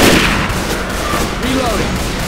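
Players in Left 4 Dead 2 open fire on a hunter, producing a loud, steady wash of gunfire across the whole moment, with a few faint tonal blips mixed in.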